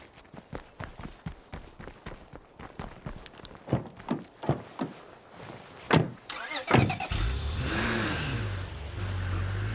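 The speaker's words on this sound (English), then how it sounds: "So we can take the car" Footsteps thud in a regular rhythm in a zombie survival game, then a car door and engine start, followed by a loud, steady engine drone with rising revs as the car pulls away.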